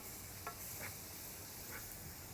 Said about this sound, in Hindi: इसको भी हमने कच्चा नहीं रहना है, इसको भी भूनना है